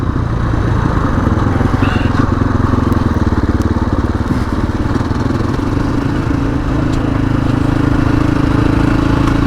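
A Sherco 500 ADV motorcycle engine drones steadily while riding, a loud, close, continuous rumble with a constant pulsing texture and faint wind noise, no talk.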